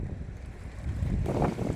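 Strong wind at sea buffets the microphone in a steady low roar from a fishing boat, with water sloshing beneath it; no voices.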